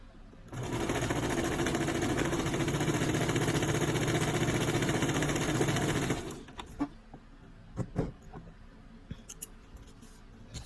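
A Brother sewing machine stitches a beanie with a steady, loud, rapid motor whir for about six seconds, then stops, leaving faint handling clicks and rustles.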